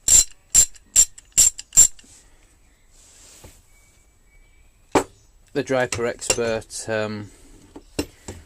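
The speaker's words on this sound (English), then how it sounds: "it's a very tonal ratchet" Extra-long Bergen 72-tooth half-inch drive ratchet clicks five times in quick, bright, tonal bursts up close, followed by a pause and then someone speaking.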